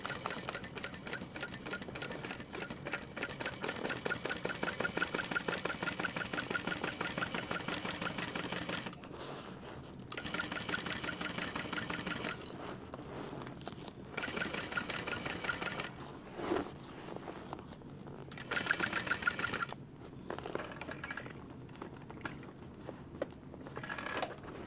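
A sewing machine stitching fabric for a crossbody bag, a steady fast mechanical chatter running nearly the whole time, broken by a few short pauses before the stitching resumes, close and fairly quiet.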